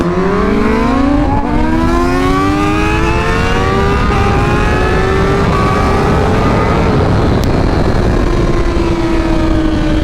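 A 2023 BMW M1000RR motorcycle engine screams loud and close while riding, its pitch climbing through the revs then easing into a steady high-speed drone with heavy wind rush throughout.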